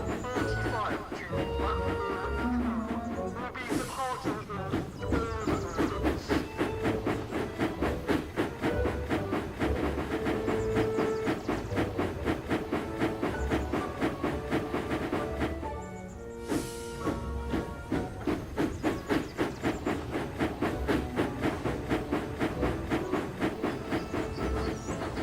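An animated steam engine shunts lines of coaches at a station platform with rapid, rhythmic chuffing, two loud bursts of hissing steam, and rail clatter running steadily throughout.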